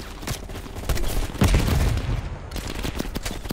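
Grenade launcher fire in Call of Duty: Black Ops Cold War amid a loud firefight: rapid overlapping shots with a heavier deep thump partway through, continuing close and intense.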